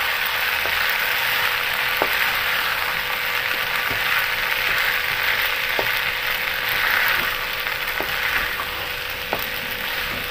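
Washed and drained sago is stirred in a pan over a medium flame for a sweet ladu. A steady hiss and sizzle is broken by sparse scrapes and taps of the utensil against the pan.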